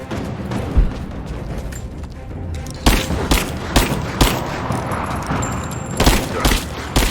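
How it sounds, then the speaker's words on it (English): Combat in Rise of the Tomb Raider: a loud grenade blast followed by a string of sharp booms and gunfire bursts, close and punchy, with no voices over it. "Grenade out!"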